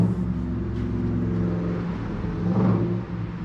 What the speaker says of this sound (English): Decent sounding truck out there.